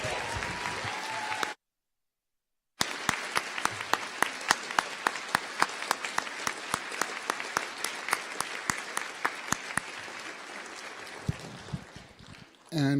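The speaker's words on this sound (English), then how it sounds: "please give a big warm applause for my staff" An audience at a science fiction and fantasy awards ceremony applauds the conference volunteer staff, with dense sustained clapping that follows a brief gap and fades toward the end, loud and close.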